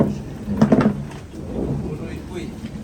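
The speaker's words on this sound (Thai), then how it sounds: "ลมพายุเข้าจังหวัดหลวงพระบาง" Stormy night in Luang Prabang, Laos, with rumbling thunder and rain pattering down, a low steady wash of storm noise that swells briefly near the start, while people talk nearby.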